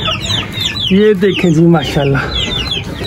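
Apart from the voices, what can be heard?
Aseel hen clucking after laying an egg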